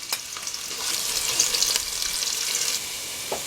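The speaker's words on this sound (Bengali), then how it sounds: "আমি 100 গ্রামের মতো তেল দিয়ে দিচ্ছি। 4টি পেঁয়াজ কেটে নিয়ে দিয়ে দিচ্ছি।" Sliced onions frying in hot oil in a pan for boal fish dopiaza, with a bright, continuous sizzle that swells louder in the middle and a few light stirring clicks.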